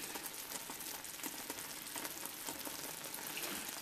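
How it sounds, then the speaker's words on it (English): Coconut sugar mixture boiling and thickening in a pot, a steady dense bubbling hiss with small pops and crackles, close and even throughout. "It's starting to boil, it's starting to get thick now."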